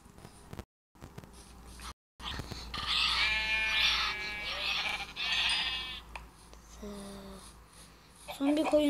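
Sheep in the video game Minecraft bleat in a cluster of quick, bright calls, with a voice speaking around them and a few thumps and clicks.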